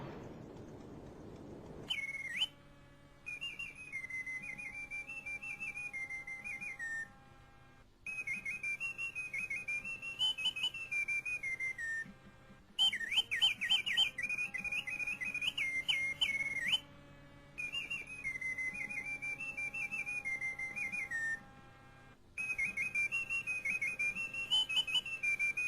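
A bellows-driven mechanical hummingbird in a singing-bird pistol gives off bright, warbling whistled phrases in several bursts with brief pauses, over a faint steady mechanical hum.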